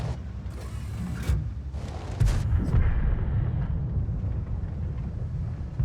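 Tank cannon fire in World of Tanks, the SMV CC-56 trading shots in a battle: a sharp boom, then a heavy second blast with mechanical clanks and a low rumbling engine drone underneath, loud and close.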